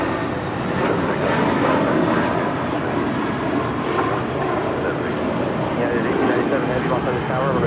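A United airliner lands on runway 25 left at Los Angeles International, its engine roar a steady, loud broadband wash that holds at the same level throughout, with voices faintly present underneath.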